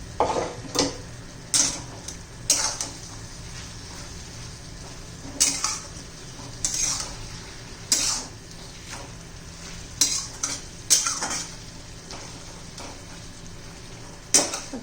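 Ridge gourd curry with roasted peanut powder cooks on a medium gas flame, with a steady low sizzle broken by repeated sharp scrapes and clinks of a spoon stirring against the pan, close and without talk.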